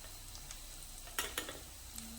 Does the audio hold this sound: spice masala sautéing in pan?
yes